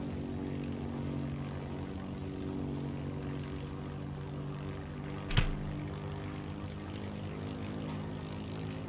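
Steady propeller engine drone of a Curtiss O-52 Owl observation plane in the video game Heroes & Generals, a continuous even hum with one brief sharp knock midway and faint clicks later, no talking.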